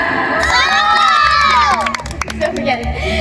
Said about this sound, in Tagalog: Sumigaw kung ready na at pumalakpak